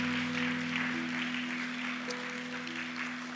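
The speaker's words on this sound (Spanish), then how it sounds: "¿por qué no le damos un fuerte aplauso a Dios?" Church congregation clapping, a soft continuous patter of many hands heard behind a steady sustained organ or keyboard tone, fairly distant and even.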